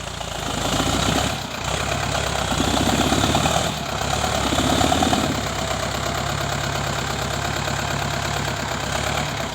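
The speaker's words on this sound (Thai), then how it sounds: "เป็นใช้รถไถนิวฮอลแลนด์นะครับ" A New Holland CS90 tractor engine runs steadily nearby, a loud, rough diesel chug with constant vibration and no speech.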